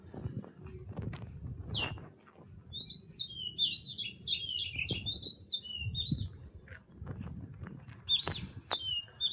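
A small bird gives quick clusters of high, sharp chirps, fairly close, with soft rustling and footstep-like thumps underneath and no talking.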